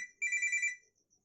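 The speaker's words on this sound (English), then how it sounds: "that's my alarm" A phone alarm rings out in one short, bright electronic trill, fairly close and clear, then cuts off into near silence.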